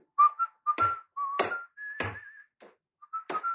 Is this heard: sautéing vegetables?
no